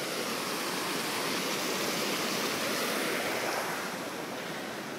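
A trout stream near Tom's Place, California flows strongly, giving a steady, dense rush of water that holds even and close throughout, with no voices.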